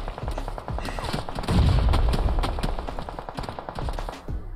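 Rapid automatic gunfire in PUBG Mobile rattles nonstop in loud, dense bursts, with heavier booming shots layered in midway.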